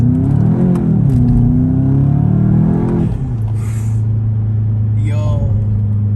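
A 2021 Volkswagen Jetta GLI accelerates hard in first gear: the engine drone climbs steadily in pitch, then drops to a lower steady hum after the shift, heard from inside the cabin with people talking.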